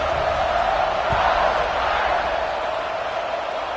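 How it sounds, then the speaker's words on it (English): A football stadium crowd roars in a broad, steady wash of cheering before the kickoff, distant and sustained. "They're set to kick it off, and this crowd now ready to get behind them."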